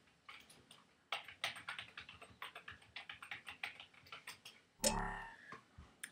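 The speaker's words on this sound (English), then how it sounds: "type in your password" A password being typed on a computer keyboard, a quick run of close, crisp key clicks in an uneven rhythm, ending in a louder clack and a pause.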